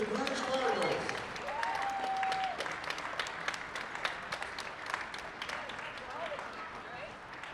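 A gym crowd claps for a team being introduced at a unified basketball tournament, a sustained patter of applause that slowly thins out, with an announcer's amplified voice heard over it near the start.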